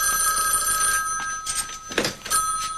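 A telephone bell rings in repeated electronic trills, loud and close, with a few soft thumps between rings and no voices.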